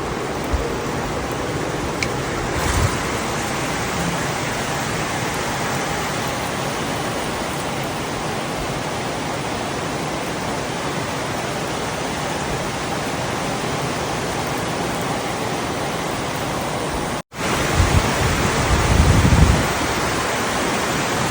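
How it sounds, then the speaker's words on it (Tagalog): Steady heavy rain pours in Davao, a dense continuous wash of sound at a constant level with a brief dropout near the end followed by a slightly louder burst. "Ang sarap dito sa Davao. Ang ulan."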